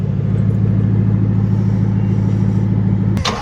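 A Ford Shelby GT500 V8 idles nearby with a deep, steady, throbbing exhaust rumble, loud and unbroken for about three seconds before a brief click near the end.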